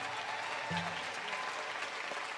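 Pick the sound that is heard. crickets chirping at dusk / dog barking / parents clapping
parents clapping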